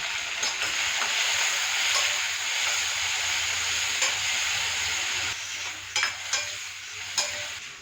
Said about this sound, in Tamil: இங்கே வந்து ரசத்துக்கு வந்து தக்காளி வதங்கிட்டு இருக்குது